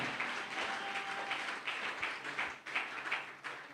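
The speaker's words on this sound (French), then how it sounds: "Est-ce qu'on peut encore acclamer très fort?" A church congregation breaks into sustained applause and cheering, a dense steady wash of clapping with no gaps, loud and close throughout.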